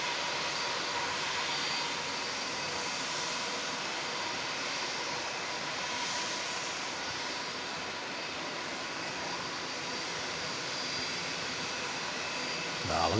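Propeller aircraft engines spinning at an airport on a wet, low-visibility day, a steady broad roar that stays even and fairly loud throughout.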